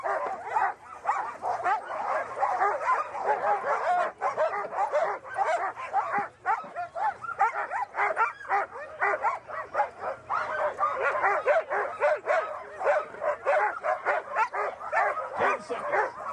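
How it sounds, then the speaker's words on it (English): A pack of sled dogs barks and yips excitedly at the start line of the Kuskokwim 300 sled dog race, a dense, continuous chorus of close, overlapping barks and whimpers throughout. "Both teams here, Aiden and Ryan, mushing out of Reddington Kennels"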